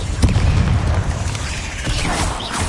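Confringo fire spell exploding in Hogwarts Legacy, a loud rumbling blast with a deep boom and crackling debris that sustains throughout, close and dense without pause.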